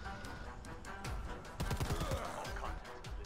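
Bursts of rapid gunfire from the Predator: Hunting Grounds video game, sharp repeated shots crackling close and loud with overlapping reports, a voice briefly present underneath.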